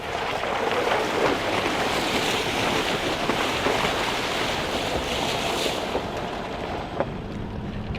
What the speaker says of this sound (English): Now we've just driven through a nice little creek.